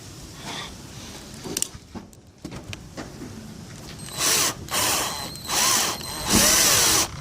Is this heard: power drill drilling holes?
yes